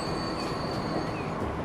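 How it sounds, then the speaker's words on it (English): Train in the Transport Fever game idles at the tracks, a steady loud rumble of rail cars with faint metallic squeals and clacks running throughout, no voices. "It's gonna wait for that train to change tracks."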